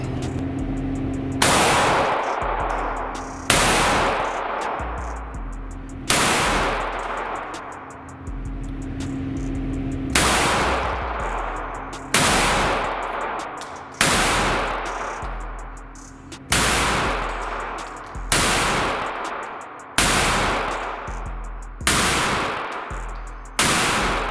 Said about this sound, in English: we got the SIG Sauer P365XL 15 round mag, and we're about to check this thing out